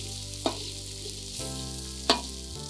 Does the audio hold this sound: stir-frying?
yes